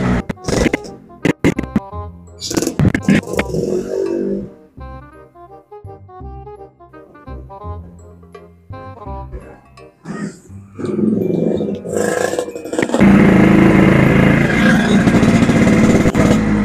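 A motorcycle engine running smoothly after its exhaust was cleaned, with idle and revving bursts that rise and fall, loud and close, turning into a sustained roar near the end.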